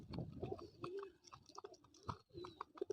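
Pigeons in an open-air loft, a mix of wild-type and local breeds, give repeated soft cooing calls close by, with rustling and shuffling among the birds and no talking.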